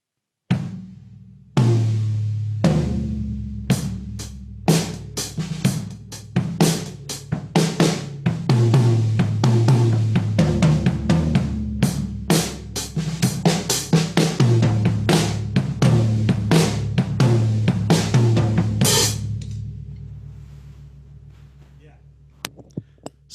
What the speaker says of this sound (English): and these are DW drums, of course, and they sound like this.